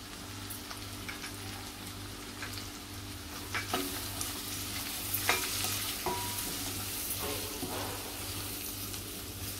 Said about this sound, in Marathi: परतून घेते थोडा